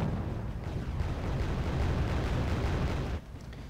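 Heavy mortar explosions in the video game Wargame: Airland Battle, a dense, sustained rumbling roar of overlapping blasts that cuts off abruptly near the end, with no talk.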